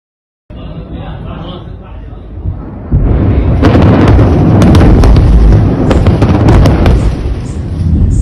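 Israeli airstrikes hit Hezbollah areas in Lebanon, with loud, close explosions and crackling bursts over a rumbling background after a quieter opening, while people's voices can be heard underneath.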